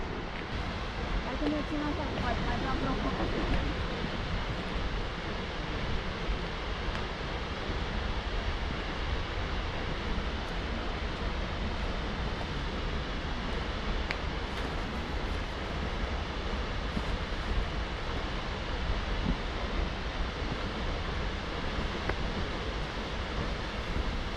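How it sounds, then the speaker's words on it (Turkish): Seljalandsfoss waterfall in Iceland gives a constant, broad, loud roar of falling water, joined by wind buffeting the microphone, with people talking over it now and then. "Şelale bu."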